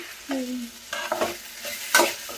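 Food fries in hot oil while a utensil stirs it, giving sizzling bursts and scraping strokes in a pan, close and fairly loud, with no talk.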